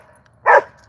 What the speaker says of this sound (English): Cats don't like barking dogs.